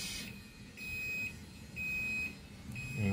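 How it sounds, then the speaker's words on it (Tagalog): An automatic washing machine's end-of-cycle buzzer beeps in repeated long high tones, four or five evenly spaced pulses, fairly loud over a quiet room hum. "Yung buzzer, tinatawag na yung maglalaba."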